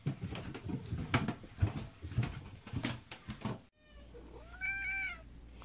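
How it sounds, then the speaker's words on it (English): Indoor pet cats are being fed. Clattering and rustling with soft thumps come first, then a sudden quiet before one clear, drawn-out meow close up. "while I go downstairs and feed these dumb cats."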